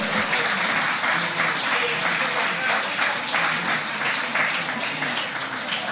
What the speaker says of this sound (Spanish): Fuertes aplausos para la doctora Delia Reboreda